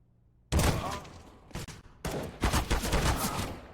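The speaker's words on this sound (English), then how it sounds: "They distracted long enough for Rez to get his 2 kills with that M4 and Volt." M4 rifle fire in the video game Counter-Strike at a competitive match: a loud burst of rapid shots, a short break, another brief burst, then sustained automatic fire, with no talk over it.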